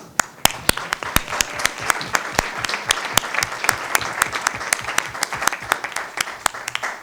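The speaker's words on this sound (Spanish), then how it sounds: "pedir un aplauso para Carlos Miranda." An audience claps steadily, a dense patter of many hands with a few sharp individual claps standing out, loud and sustained throughout.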